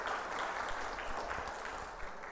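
A church congregation gives a round of applause during a sermon, a soft, distant wash of clapping that holds evenly for a couple of seconds.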